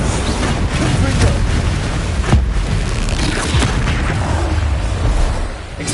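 In Hogwarts Legacy, a Confringo explosive spell detonates with a deep, loud boom and rumbling blast, followed by crackling debris and sustained low roar through the rest of the moment.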